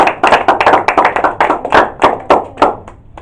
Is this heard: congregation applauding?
yes